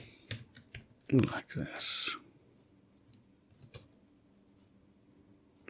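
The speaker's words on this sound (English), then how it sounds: "which I won't make you watch me typing" Fast bursts of clicking on a computer keyboard sound close and crisp while coding in Rust, with a brief spoken phrase in between and scattered key taps trailing off afterward.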